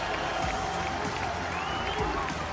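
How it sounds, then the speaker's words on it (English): A large esports arena crowd in France cheers at the 2018 Mid-Season Invitational League of Legends grand final, a dense continuous roar of voices with scattered clapping, with speech mixed into the noise. "Listen to France as they are cheering for Uzi."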